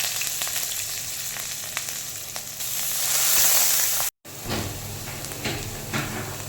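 Banana stem frying in hot oil tempered with nigella seeds and green chillies, a loud continuous close sizzle that swells midway, cuts out briefly, then resumes with faint clatter and no speech.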